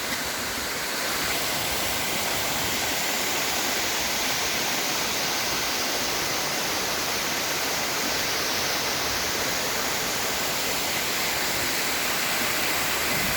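Water rushes steadily at a landslide site, a loud, unbroken roar close by with no voices.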